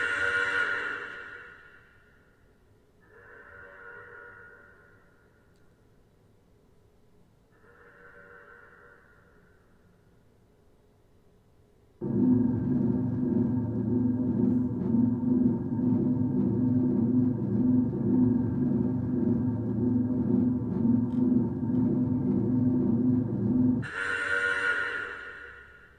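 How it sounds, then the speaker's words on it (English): Fortnite rocket powering up before launch in the video game: a loud, steady low droning hum with a high tone holds for about twelve seconds, after several fainter separate bursts, then cuts off, followed by another short burst. "So that was the sound of the rocket, obviously getting ready to power up,"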